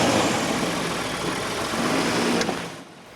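A truck drives slowly back and forth over a chalet parking area to pack it down, with traction only at the rear wheels. Its engine gives a steady, close, droning rumble that cuts out near the end.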